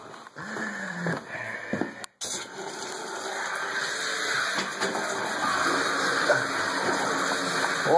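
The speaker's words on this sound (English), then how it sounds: "I'm just running the faucet so those air bubbles come out." Faucet left running during a copper pipe repair so air bubbles clear out of the line, a steady gushing hiss that builds after a brief sputter and cutoff near the start, then flows continuously and close.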